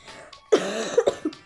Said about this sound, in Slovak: Že kašlem.